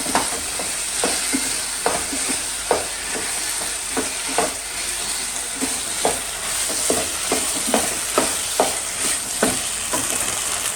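Chilli powder and turmeric frying and being stirred in a hot pan, a steady bright sizzle broken by repeated scraping strokes of a spoon, close and fairly loud with no talking.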